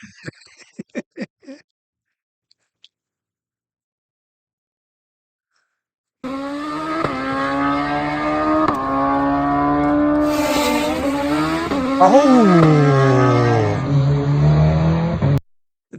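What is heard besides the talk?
motorcycle racing past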